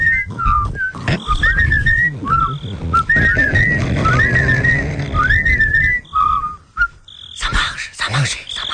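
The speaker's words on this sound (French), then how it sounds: "On a qu'à siffler tous ensemble." Several people whistle a melody together in unison, a wavering tune running through most of the stretch with brief pauses, accompanied by low background rumble and scattered voices near the end.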